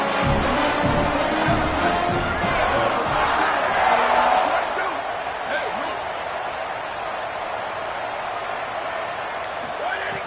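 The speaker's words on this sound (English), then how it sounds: "Rely on this home crowd." A home stadium crowd roars in a college football video game during a late playoff game, a dense, sustained cheer that swells and then eases slightly, with a commentator talking over it.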